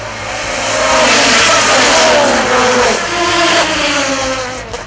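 Race cars at Dover, Jamaica, with Doug Gore's car leading a pack into a bend, engines roaring loudly and continuously as they accelerate, swelling and easing in pitch over several seconds.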